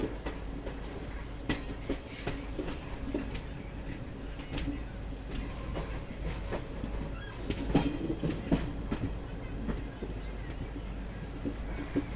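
The Madras Mail superfast express from Chennai Egmore to Mumbai CSMT runs at speed on the Chennai–Renigunta line, a continuous low rumble heard from inside with scattered clicks of wheels over rail joints.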